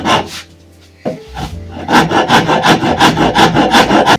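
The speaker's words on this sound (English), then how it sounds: "so I'll try the rasp instead." A hand rasp scrapes across wood while shaping parts for a continental frame saw, a few strokes and then a steady run of loud, close rhythmic rasping with no talk.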